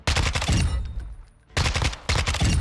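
Gunfire at the firing range in Modern Warfare 2, loud close bursts of rapid automatic shots in two volleys separated by a brief lull.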